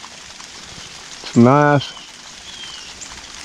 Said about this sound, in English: Just some beneficial rain